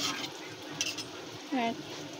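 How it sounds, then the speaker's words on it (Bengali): A wooden spoon stirs a Bengali boro fish jhal curry in a pot just after water is added to the fried spice base, giving faint, intermittent scraping and soft liquid movement with a brief higher squeak. "এবার একটু নাড়িয়ে নেব সুন্দর করে"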